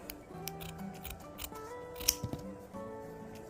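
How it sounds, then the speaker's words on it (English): Scissors snip through excess costume material in a few quick, close cuts, set against a faint background of light music. "I'm cutting off all the excess, extra material here."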